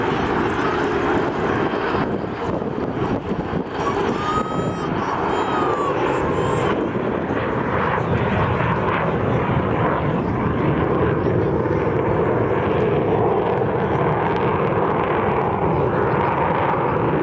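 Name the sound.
Avro Vulcan bomber flying at an airshow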